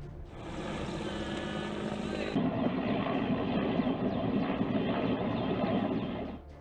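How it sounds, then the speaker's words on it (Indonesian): A water-bombing helicopter working over a land fire near Palembang drones steadily overhead, a loud continuous engine and rotor roar that holds for several seconds before fading slightly at the end. "pemadaman juga dilakukan melalui jalur udara dengan menerjunkan 1 helikopter pembom air"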